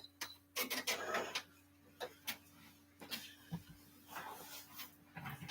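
An embroidery machine runs a placement stitch, giving off a quiet mechanical hum with irregular ticking and clattering bursts, close by in a workspace during Easter order production, with no talking.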